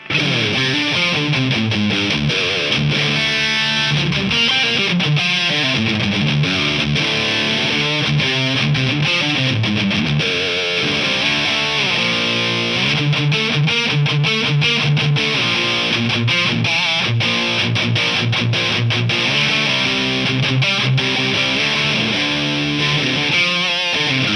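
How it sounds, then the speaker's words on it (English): Distorted electric guitar playing chords and riffs through a Soldano SLO overdrive pedal into an amp, crunchy and sustained, loud and continuous with no talking. "you get a pretty good crunchy overdrive distortion sound."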